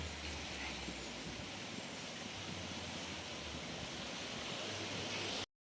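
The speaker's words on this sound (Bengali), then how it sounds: "জলটা এবার আমি ভালো করে ফুটিয়ে নেব কিছুক্ষণ জাল দিয়ে।" Water boiling in a kadai on the stove during aam kasundi preparation gives a steady, dense rolling hiss that holds evenly throughout, then cuts off abruptly.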